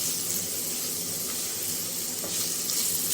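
Chopped onions added to garlic already frying in a pan for chicken kabab rolls, a dense, steady hiss and sizzle up close with faint stirring scrapes.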